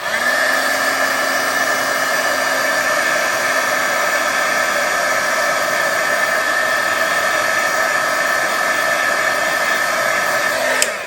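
A heat tool warming stamped embossing ink on a card blows with a loud, steady whooshing whine that runs unbroken, close up, for the whole stretch.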